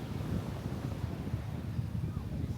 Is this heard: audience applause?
no